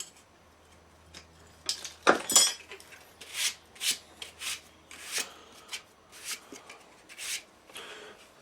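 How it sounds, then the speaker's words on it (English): A knife slicing through Kydex sheet for a pancake sheath, heard as a series of close, crisp scraping strokes after one louder clatter, with short pauses between cuts. "Now we can finally take the knife out and cut the top."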